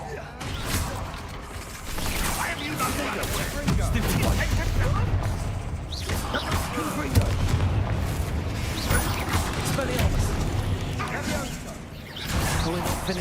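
Incendio fire spell cast in the video game Hogwarts Legacy: loud, dense bursts of whooshing, crackling magical impact noise in repeated waves, with game voices mixed in.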